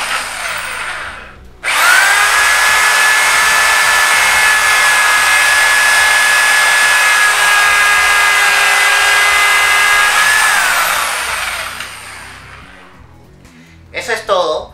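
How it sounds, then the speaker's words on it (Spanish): A power drill bores a third dowel hole in a wooden board through a Jointcrafter doweling guide, a loud steady whine running for about nine seconds before winding down, with brief handling noise at the start and end. "procedo a hacer el tercer taladro"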